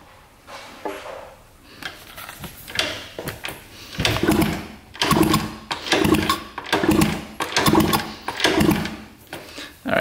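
A rare 1970s mini enduro motorcycle engine, left 30 years in a basement and without spark, is turned over, giving a close series of rhythmic mechanical chuffs and clatters repeating about once a second.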